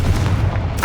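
A Confringo blasting spell explodes in Hogwarts Legacy, giving one short, loud, booming burst that fills the brief moment and stands alone.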